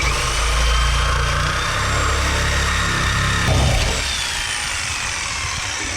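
A power tool grinds loudly through a car's sway bar, a harsh continuous whine and rumble close up that cuts off partway through, leaving a quieter steady hum behind, with no talking.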